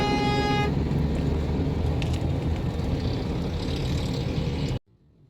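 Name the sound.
road traffic with cars and honking horns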